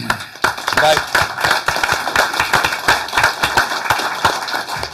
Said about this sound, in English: So let's just give his family a round of applause and him.